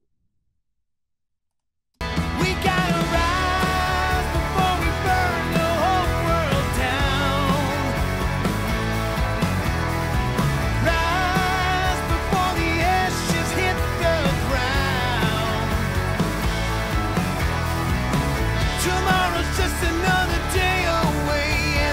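After about two seconds of silence, a full song chorus begins with a lead vocal and a parallel lead vocal over a dense, steady instrumental, loud and continuous throughout.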